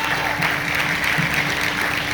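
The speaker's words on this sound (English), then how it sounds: "So another round of applause for Jamal." A steady round of applause from an audience at the Sacramento Oak Park Black Film Festival, continuous close clapping from many hands with no gaps.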